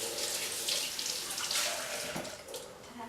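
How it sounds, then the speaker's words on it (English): Hands are rinsed under a running kitchen tap, giving a steady hissing splash of water that stays close and even throughout, with no talking. "So I'm going to rinse these little hands off."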